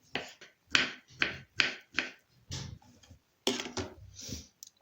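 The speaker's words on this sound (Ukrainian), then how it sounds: "маленькими кубиками поріжу бурячок" Knife dicing beetroot into small cubes on a cutting board, a run of sharp, close chops in a fairly even rhythm with brief pauses, and no talking.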